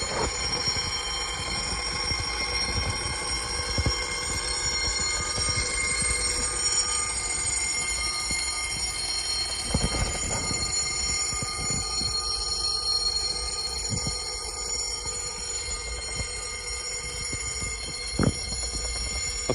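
A predator control alarm rings steadily at a chicken pen outdoors, a continuous bright bell-like ringing over a wash of broadband noise with a few sharp knocks, heard alone without talking.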